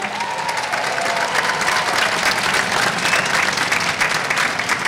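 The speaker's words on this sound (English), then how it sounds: "I'd like you to give yourselves a round of applause" A graduation crowd of parents, family and friends at the DHS 2023 ceremony breaks into loud, dense applause, many hands clapping steadily with faint cheering mixed into the wash.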